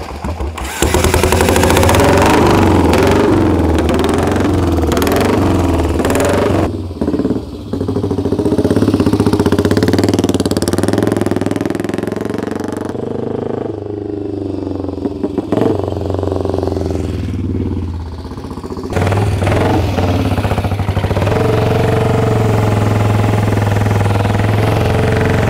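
Mike Hailwood's AJS 7R 350 racing motorcycle runs loud and close, its single-cylinder engine revving and dropping back in uneven bursts, with short breaks between runs.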